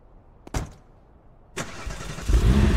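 A car in the Dead Matter video game starts up after a short click: the engine catches with a burst, then idles and revs louder toward the end, alone without voices.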